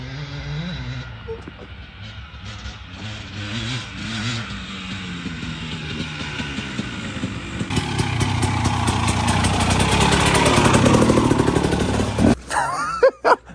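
A motocross bike engine runs steadily, heard from outside, building to a louder, rougher roar in the second half before cutting off near the end with a few sharp bursts.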